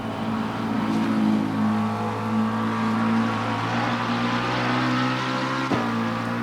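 A McLaren GT3 race car engine in the racing game Assetto Corsa Competizione drones steadily at high revs, a loud continuous tone with small shifts in pitch.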